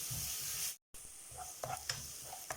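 Sliced onions fry in a pan while being stirred, a soft close sizzle with scraping strokes and light clicks, briefly cut out partway through, no voices.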